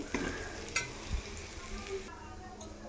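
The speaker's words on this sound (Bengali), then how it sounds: "একটু ভাজা ভাজা হোক।" Food fries in a pan while palak paneer is cooked, giving a soft, quiet sizzle with a few light clinks and scrapes of stirring.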